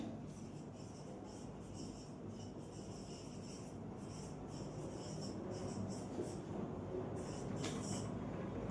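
A pen scratches across paper in short bursts of strokes while notes are written during a class 11 biology lesson on the skeletal system, faint and close against a steady low background hum.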